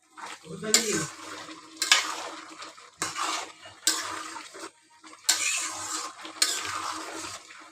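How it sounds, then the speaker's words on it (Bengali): A pan of bottle gourd and egg curry stirred with a metal spoon: six or seven regular bursts of scraping and clinking against the pan, close and fairly loud, with short pauses between strokes. "এরপর যে আমি এখন ভালো করে নাড়াচাড়া দিয়ে দেব"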